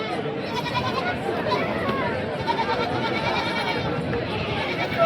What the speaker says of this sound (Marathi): तिसंगीचा हा बोकड आहे.